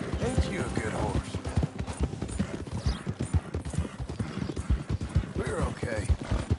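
Horse hooves clip-clopping in the Western video game Red Dead Redemption II, a busy, fairly loud patter of hoof falls over a dense game soundscape, with a voice speaking now and then.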